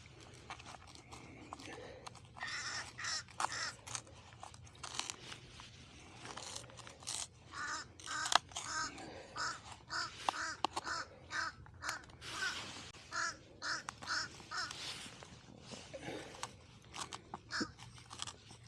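Crow-like caws repeat near an abandoned island, sounding at intervals over a rustling, clattering background with light handling noise, fairly close and moderately loud.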